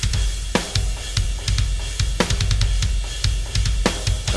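Full drum kit with kick, snare hits and cymbals, mixed through a Line 6 POD HD500X for a djent track, playing a steady, punchy pattern with sharp transients at close range and no talking.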